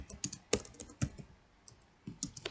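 Typing a chmod command on a computer keyboard, a sequence of close, crisp individual key clicks in an uneven rhythm with a short pause midway.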